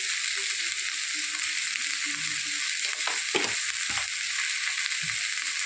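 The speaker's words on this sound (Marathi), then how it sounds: "इथे छान त्याला परतून घ्यायची" Okra (bhindi) and peanuts stir-fried in a pan, with a steady loud sizzle throughout and occasional scraping stirs of a spatula, up close and with no talking.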